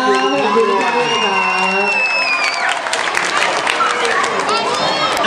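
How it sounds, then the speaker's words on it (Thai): Concert audience applauding and cheering at the Upper Hand Concert 2018 grand opening, a steady dense wash of clapping and whoops from a large crowd, with music and voices mixed in early on. "ยังไงขอเสียงปรบมืออีกครั้งนึงด้วยครับ"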